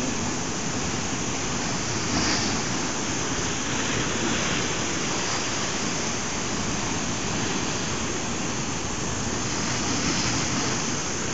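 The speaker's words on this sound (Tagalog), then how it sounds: "Mga malalakas na alon." Loud, continuous roar of crashing surf filling the whole clip, a dense broadband wash with no pauses and no voices.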